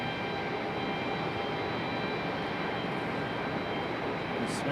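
A Boeing 757 arriving from Atlanta at Raleigh-Durham International produces a steady, distant jet drone that holds at an even, moderate level from start to finish.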